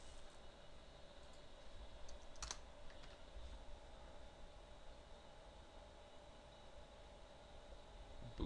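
Faint keystrokes on a computer keyboard tap out irregularly over a low background hiss, with one sharper cluster of clicks near the middle.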